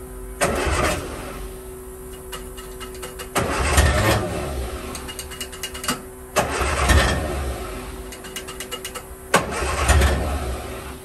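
1963 Austin Healey Sprite with a 1098 engine cranking through repeated start attempts, each a loud burst of starter churning and brief engine catch, four rounds close by with short pauses between.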